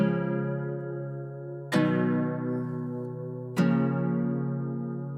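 Three nylon-string guitar chords with added sevenths ring out for an ambient beat, each struck cleanly and left to decay, in a slow, even rhythm.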